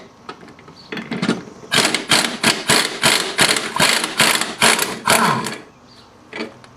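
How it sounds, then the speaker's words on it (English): Impact wrench fitted with a 22mm socket removing nuts from a Husqvarna mower deck pulley, loud close bursts of rapid hammering rattles in quick succession, ending with a short final burst; no speech. "I'm going to go ahead and use a good impact wrench with a 22mm socket"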